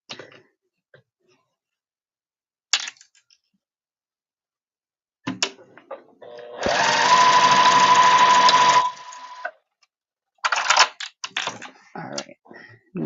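A sewing machine stitches a piece onto a sewing project in one steady, close burst of about three seconds, framed by scattered clicks and handling noises in an otherwise quiet room.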